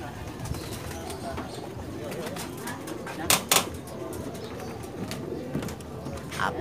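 Racing pigeons arriving at a loft after a 162 km race from Santiago, Isabela: soft cooing and a brief wing-flap burst amid outdoor bustle, with people talking throughout.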